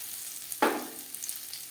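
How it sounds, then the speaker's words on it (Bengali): Grated ginger drops into hot oil already frying chili, cumin and bay leaf, giving one sudden, fairly quiet sizzle that swells briefly and fades against a faint background. "দশ 15 সেকেন্ড লঙ্কার সাথে জিরে ও তেজপাতা ভেজে নেওয়ার পর দিয়ে দেবো সামান্য পরিমাণে আদা"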